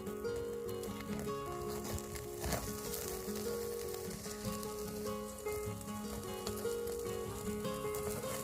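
Ultra-thin sliced pork loin, cut for hotpot, sizzles steadily over a campfire in a pan, a continuous close frying crackle with occasional pops and light clinks, no talk.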